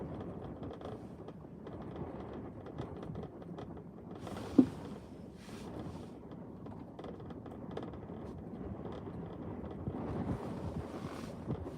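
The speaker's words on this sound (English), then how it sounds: "Wow, do you guys hear the winds right now?" Strong wind at an airport blows through an open car window, a constant low buffeting rumble with occasional sharper gusts and creaks, heard up close with no voices.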